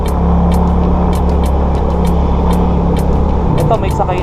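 A Yamaha Mio Soul i 115cc scooter climbs a steep uphill with a passenger aboard, its engine droning steadily and close with a change in tone near the end, under a speaking voice and background traffic noise.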